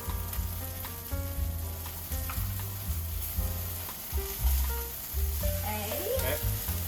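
Tomatoes hitting a hot pan for garganelli pasta sauce, a bright sizzle and crackle under a low rumble with clattering utensil knocks and stirring, close by; a voice speaks briefly in the background.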